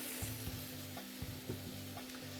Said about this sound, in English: I'm going to throw the shrimp in with it, maybe a tiny bit more oil.